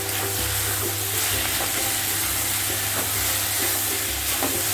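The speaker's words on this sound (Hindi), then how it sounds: "डाल के अच्छी तरह मिला देते हैं।" Tomato and red chilli sauce is stirred in a hot pan for chicken noodles, giving a continuous sizzle with repeated scraping strokes over a low steady hum.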